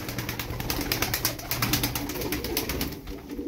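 Tumbler pigeons coo steadily and close by in a loft, with dense overlapping calls in a rhythmic stream.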